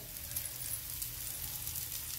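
Green mung bean dhirde batter spread on an oiled griddle sizzles steadily as more oil is drizzled over it. The frying hiss is soft but continuous, and no voices are heard.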